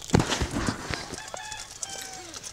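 Roosters at a cockfighting venue give a brief crow and a few clucks, fairly close, among background crowd noise.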